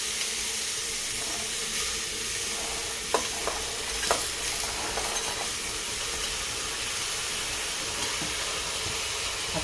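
Ingredients for a traditional Maharashtrian sol bhaat rice dish being mixed in a cooking pot: a steady soft sizzling hiss with a few scraping stir clicks, moderately close, no voices.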